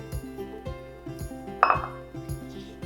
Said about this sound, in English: Then mix that up just briefly.